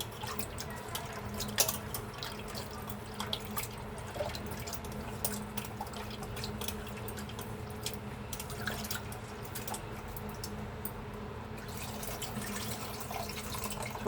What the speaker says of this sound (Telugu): ఆ చింతపండుని మెత్తగా పిసికేసి ఆ వాటర్ వేసుకుందాం.